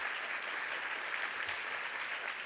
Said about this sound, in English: So let's give Ariel another round of applause.